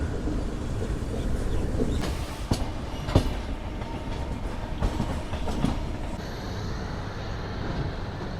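Tamil Nadu Express passenger train rolling through a junction without stopping, a steady close rumble broken by sharp clickety-clack wheel knocks over points and a faint squeal.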